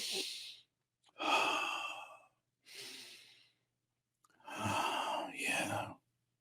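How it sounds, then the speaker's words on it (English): Slow, deep breathing cycles: loud, airy inhales and exhales alternating in close succession, four long breaths with pauses between, heard alone with no talking. "Do some deep breathing."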